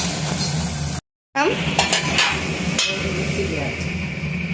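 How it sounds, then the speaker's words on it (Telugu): Prawns fry in a hot pan with oil and spices, a continuous sizzle broken by scraping and clinking stirs of a spoon against the pan, close up, with a brief silent gap early on. "కొద్దిగా ఉడికిన తర్వాత రొయ్యలు వేస్తాము."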